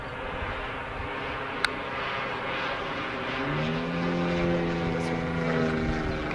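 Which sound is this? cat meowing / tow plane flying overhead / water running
tow plane flying overhead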